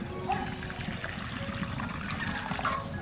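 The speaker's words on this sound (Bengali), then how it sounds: "এর মধ্যে আমি জল দিয়ে দিলাম।" Water is poured into a pan for pitha sugar syrup, giving a steady, close liquid pouring and trickling sound throughout, with no talking.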